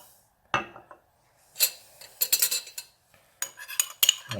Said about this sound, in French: Et on va mélanger le tout avec environ une demi-cuillère à café d'eau.